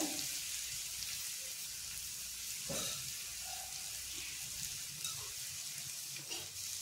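Dry salted bangda mackerel frying Malvani-style in a covered pan gives a steady, soft sizzle and crackle throughout, with a couple of brief clinks and stirring sounds and no talking.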